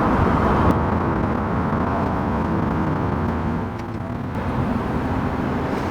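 An EV-swapped BMW Z3 electric roadster moves through traffic, giving a constant low road and tyre rumble with a steady hum and no engine note.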